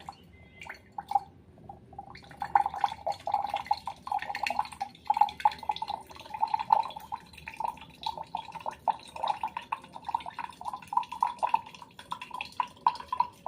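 Water from a cracked-open green coconut drips in a quick, uneven patter of small, close drops that keeps going steadily for several seconds, with no one speaking.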